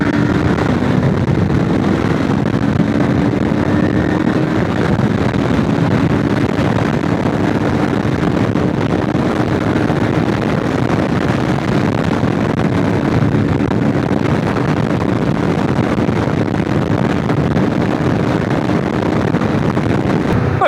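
QJMOTOR SRT 450RX adventure motorcycle ridden at top speed, a constant dense roar of wind buffeting mixed with a steady engine drone, loud and unbroken for about twenty seconds without talk.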